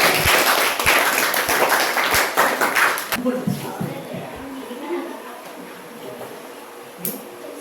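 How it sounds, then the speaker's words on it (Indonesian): A burst of scattered hand clapping for a student group in a classroom, fading after a few seconds, leaving a quieter room with some soft voices. "Tepuk tangan untuk kelompok."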